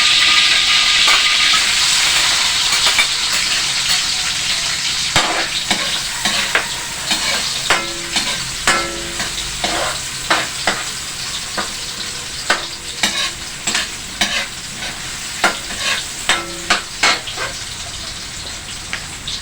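Chopped garlic and onion hit hot oil in a pan for vegetable spring roll filling. A loud, hissing sizzle fills the first seconds, then settles as a series of rhythmic spatula scrapes and clatters repeats over continuous frying.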